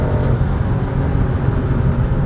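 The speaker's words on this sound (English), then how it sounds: "You can tell the exhaust is restricted. I'm not getting full power." A 2004 Acura TL with a 3.2L engine accelerates through a restricted exhaust and faulty catalytic converter, making a dense, loud, muffled engine roar heard close from inside the car.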